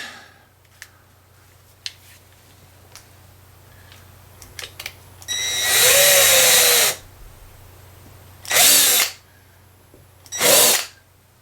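A power drill bores holes in a 2016 Epiphone Explorer Korina guitar body in three loud, close bursts of whining drilling, the first one longest, separated by quiet pauses.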